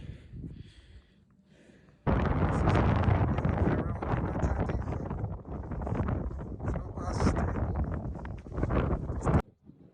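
Wind buffets the microphone of an Ulefone Armor Mini 20 Pro phone outdoors on a cold day, a loud continuous roaring rumble that rises abruptly after a quieter start and then stops suddenly.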